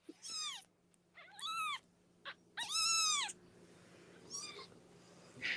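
A tiny kitten meows while being held, giving several loud, high, drawn-out cries in irregular bursts with short pauses between, close up and with no talk.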